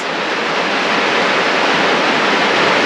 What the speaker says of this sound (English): Sorry about the noise. It's raining pretty hard right now.